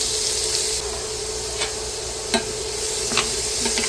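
Small chopped onion sautéing in a pan gives off a loud, steady hiss of frying, with a few faint spatula taps scattered through it and no voices.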